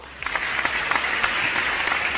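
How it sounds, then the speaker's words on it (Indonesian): A studio audience applauds to welcome a guest, many hands clapping in a dense, lively patter that starts quickly and holds steady close by. "mari kita sambut Pak Isak dengan tepuk tangan"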